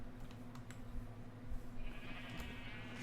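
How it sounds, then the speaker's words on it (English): Sheep bleat faintly in a Minecraft pen, a few short wavering cries over a steady low hum and background ambience, with no talk. "Go enjoy the sweet serenading sounds of our sheep and cows here in their"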